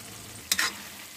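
Pumpkin sweet mixed with grated coconut is stirred in a pan: a faint background sizzle broken by one quick double scrape of the spoon.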